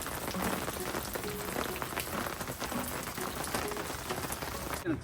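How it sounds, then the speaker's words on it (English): Steady rain patters on a surface at Finley State Park, a soft continuous hiss with scattered drop taps and no talking. "We've arrived at Finley State Park in the rain."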